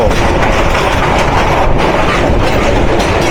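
Upaban Express intercity train running from Sylhet toward Dhaka, rushing past at high speed with a loud, steady roar of wheels and wagons, close by and continuous with no talk.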